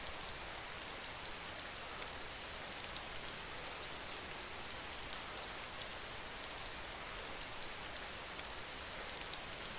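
Heavy, unbroken rainfall in the zombie survival game DayZ, a broad constant wash of drops at an even level with no voices and no pauses.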